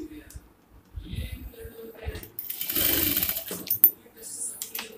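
A sewing machine stitches fabric for a yoke nighty in a short close whirring run, with quieter handling sounds before and after.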